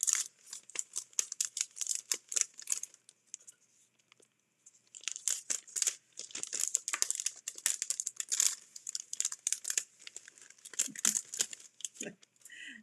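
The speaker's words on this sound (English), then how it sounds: "Nothing wants to come out of the cellophane bag." A cellophane bag crinkling as crafting pieces are pulled out of it, close crackling bursts that start and stop over and over, with brief pauses and faint talk.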